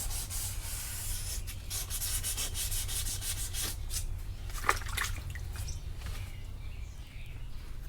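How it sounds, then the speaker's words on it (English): Steady, continuous scratchy rubbing of sandpaper on car primer, close up and fairly loud, with a few brief strokes standing out along edges and no talking. "I pretty much got all the sanding done now"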